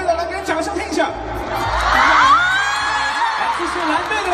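A large concert audience at The Untamed fan concert in Nanjing cheers for the red team, a dense roar of cheering and high whoops that swells and stays loud throughout.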